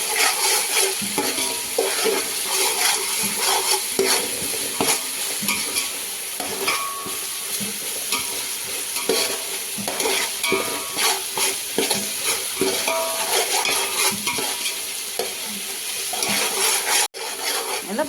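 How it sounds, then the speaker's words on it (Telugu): Ginger garlic paste fries steadily in a pan, a dense continuous sizzle with frequent scraping stirs of a spoon, loud and close throughout for most of the stretch before a brief cutoff near the end. "ఇలా బాగా పచ్చి వాసన పోయే వరకు ఫ్రై చేసుకోవాలి"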